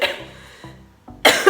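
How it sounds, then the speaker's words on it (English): A series of short, sharp coughs close to the microphone, about four in quick succession, the last the loudest. "my throat like makes me cough when I have this cold"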